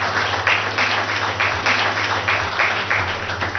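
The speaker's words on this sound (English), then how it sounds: "With a huge round of applause" An audience at an environmental awards ceremony claps for Sachin Pilot as he takes the stage, a steady wash of applause that holds at an even level the whole time.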